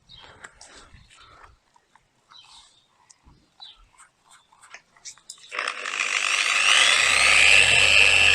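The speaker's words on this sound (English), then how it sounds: "I'm going to buff these small spots that are scraped up." A power buffer works on small scraped spots in the paint of a Mercedes C200 W203, starting after scattered light handling knocks and rising into a loud steady whirring drone that holds to the end.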